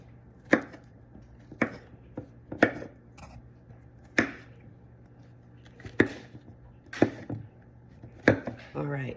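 Mushrooms chopped with a knife on a board: a series of sharp, close knocks at irregular intervals, roughly eight cuts with short pauses between them, loud and isolated against a quiet background.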